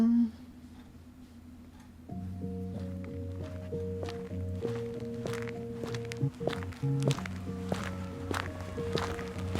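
Footsteps sound effect built in BandLab: a steady series of crunchy steps under a droning musical backing, gradually fading across the clip.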